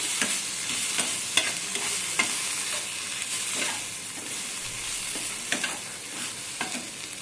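Mustard and ginger paste is stirred in a frying pan, giving a steady bright sizzle with repeated scraping strokes of a spoon at a regular pace, close and constant, with no voices.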